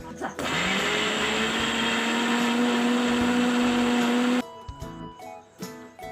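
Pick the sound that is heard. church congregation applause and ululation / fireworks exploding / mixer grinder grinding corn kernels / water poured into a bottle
mixer grinder grinding corn kernels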